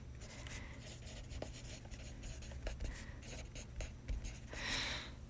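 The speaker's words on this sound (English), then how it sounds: "Hang on, I gotta write it down." A pen scratching across paper while something is written down, quick irregular strokes close up over a low steady room hum, with no talking.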